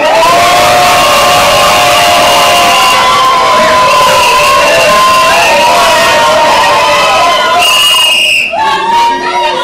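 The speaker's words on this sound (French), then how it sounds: "applaudissez pour lui." Wedding guests cheering and applauding at a ceremony, a loud, dense crowd roar with whoops and shouts that holds steady before a brief dip near the end.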